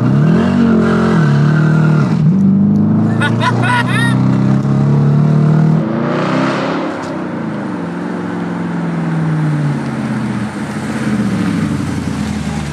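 A V8 car engine roars and revs hard as the car pulls away from a standstill at traffic lights with traction control off, loud and close, pitch climbing through the gears, with a brief voice over it.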